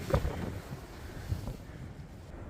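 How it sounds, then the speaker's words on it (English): Wind on a mountain summit at Stratton Mountain, Vermont buffets the microphone in low, gusty rumbles, loud and close, with no voices. "It's insanely windy up here"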